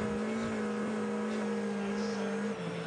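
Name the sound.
rally car engine revving on icy snowy stage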